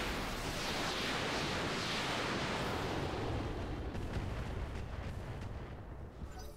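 A salvo of UPC LRM-20 long-range missiles launches in the RogueTech mod of the BattleTech video game, a loud sustained roaring rush of rocket fire with no talk over it.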